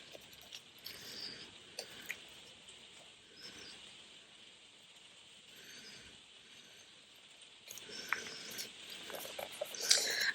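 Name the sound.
rain falling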